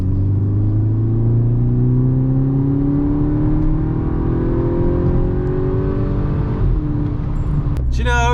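A VW Golf GTI engine drones steadily and loud, its pitch slowly rising as the car gathers speed at part throttle, then dropping off near the end with a brief burst of other noise.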